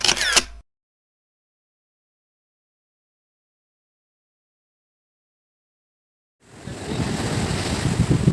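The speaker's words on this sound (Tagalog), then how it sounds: "Kita nyo yung alon na yun." Storm-driven sea waves surge and crash steadily onto a beach at Pamana Beach House resort, loud and close, with a windy rush over the mic. The sound arrives after a brief opening sound and a long silence.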